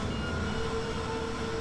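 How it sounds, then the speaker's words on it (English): Train passing through a station in Rainbow Six Vegas 2, a steady loud rumble of wagons rolling by with a faint metallic whine, continuous throughout. "Sharon, tell me when the train clears the station"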